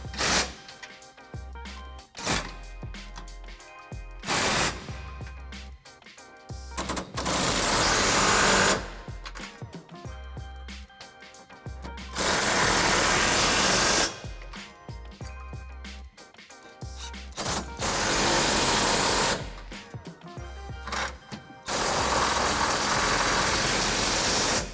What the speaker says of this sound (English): Our factory hardware we're going to tighten using the 21 millimeter socket